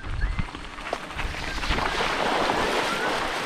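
Rushing water at the Cachoeira do Pacu waterfall: a broad, continuous roar of falling water that grows steadier and louder, mixed with some wind buffeting on the microphone at the start.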